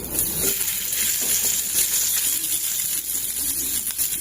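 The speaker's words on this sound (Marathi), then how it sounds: "आता कांदा भाजून घेऊ." Chopped onion frying in a small amount of oil for a green pea bhaji, a steady, dense sizzling hiss running evenly throughout, close up and without talk.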